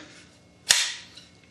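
A single sharp shot from a Palmetto PSAK-47 rifle, loud and close, with a short decaying echo afterward.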